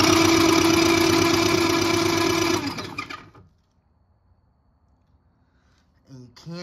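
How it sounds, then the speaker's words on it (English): Tao Tao 110cc quad engine cranking over with a steady mechanical whir for about three seconds, then stopping abruptly into near silence before a brief noise at the end. "I'm just gonna cross these posts to get the engine to turn over again"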